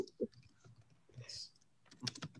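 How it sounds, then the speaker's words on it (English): Someone types on a computer keyboard during a district court session, a few scattered soft key clicks and taps at close range with short pauses between bursts. "Typing too quickly."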